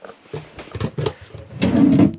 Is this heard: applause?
no